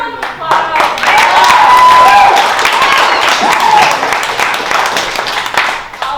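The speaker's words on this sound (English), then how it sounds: "One more round of applause." Audience applause fills a comedy class showcase at a theatre school, a dense burst of clapping with cheers rising quickly and holding steady before tapering off, close and loud with voices mixed in.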